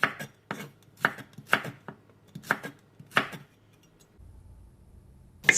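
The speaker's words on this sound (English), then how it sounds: "Cut carrots in julienne strips." A knife chops carrots into julienne strips on a cutting board, with crisp, evenly spaced thuds coming in quick bursts close up, then a short pause before one last cut.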